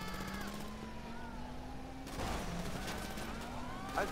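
Gunfire in Grand Theft Auto V, with a few distinct sharp shots and short bursts spread across the moment over a steady engine-like drone, while players talk.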